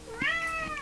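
A single short meow from King, a male pet cat, rising and falling quickly, heard up close but at modest volume against a quiet room.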